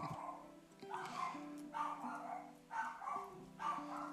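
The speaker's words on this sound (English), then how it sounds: "Don't mind my dog in the background" A pet dog barks repeatedly in the background outdoors near the Everglades, about four muffled, fairly distant barks in a steady rhythm.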